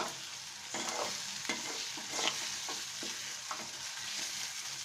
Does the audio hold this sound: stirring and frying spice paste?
yes